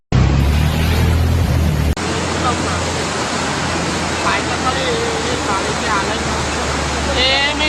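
Loud, continuous roar of floodwater rushing in the Vishwamitri River in Vadodara after heavy rain, broad and constant throughout, with faint voices now and then.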